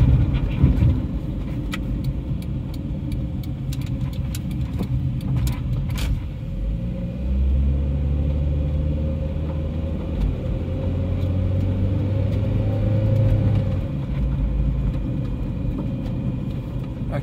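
A 1996 Honda Orthia with a B20B engine and front-wheel drive on a test run: steady, close interior engine drone and road rumble throughout, rising slightly mid-way as it accelerates.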